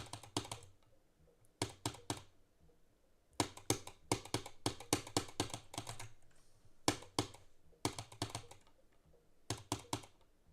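Keys clatter on a new computer keyboard in bursts of rapid typing separated by short pauses, the clicks close and crisp with no one talking.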